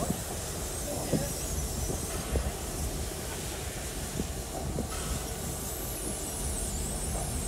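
A train runs along a snowy railway, a steady rolling rumble with faint hiss and scattered clanks continuing throughout.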